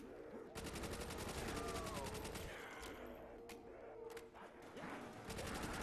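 Rapid bursts of gunfire crackle through a busy soundscape in the Shi No Numa zombies map, with repeated shots and sharp impacts filling the short stretch.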